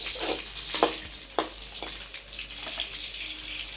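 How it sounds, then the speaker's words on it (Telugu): Chopped onions and tomatoes fry in a pan with a soft continuous sizzle, broken by a few sharp scraping or stirring clatters, heard close with no voices. "అలానే ఉల్లిపాయలు కానీ వేస్తున్నాం. కొద్దిగా వేగిన తర్వాత టమోటాలు వేసుకున్నాం."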